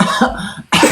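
A person coughs twice in quick succession, close and fairly loud, with a short pause between the bursts.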